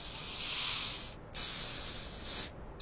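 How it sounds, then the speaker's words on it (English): A spray paint can gives two hissing bursts, a longer one followed by a second after a brief pause, then a quick start of a third, close and fairly soft. "I'll just cut straight to the tin of spray paint."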